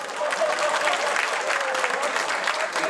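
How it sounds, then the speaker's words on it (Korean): Applause from People Power Party lawmakers fills a National Assembly chamber, a dense, steady wash of many hands clapping at close range for three seconds, with a faint voice briefly rising beneath it. "저에게 왜 국민의힘 의원들이 박수를 칩니까?"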